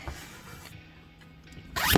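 A zipper on a car seat-back pocket in a 2021 Ford Bronco Sport is pulled in one quick, close, rasping stroke near the end, after a short stretch of quiet room tone.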